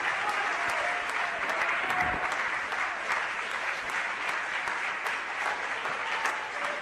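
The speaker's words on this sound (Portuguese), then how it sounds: "Se você acredita nisso, aplauda Jesus Cristo." A church congregation applauds steadily, the dense clapping sustained throughout with a faint murmur underneath.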